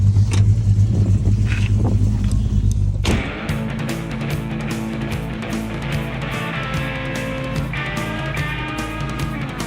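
A car, a VC, being driven on a quick test run, its engine droning loudly with a rough rumble, then a shift to a steadier cruising note with rhythmic thumping and rattling from the road.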